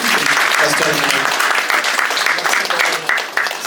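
Loud, close applause from a Congolese diaspora church gathering in Ottawa, clapping hard for a pastor, with voices and cheering mixed into the crowd noise as it fades slightly near the end.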